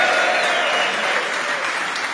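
An audience at an evening event breaks into a round of applause for a guest, a thick, continuous wash of clapping heard up close and fairly loud throughout.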